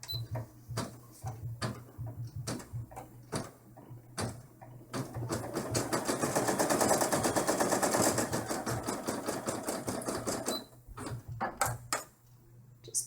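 Embroidery machine stitching window panes and a small doorknob in gray thread on an in-the-hoop dollhouse bag, a steady rapid needle chatter that builds and holds in the middle, framed by sharp clicks and pauses at the start and end.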